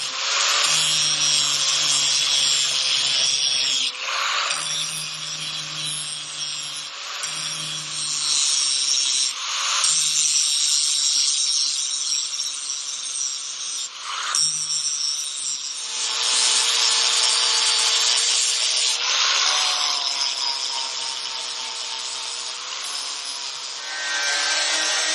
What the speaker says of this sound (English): we got the shock mounts cut off of the swing arm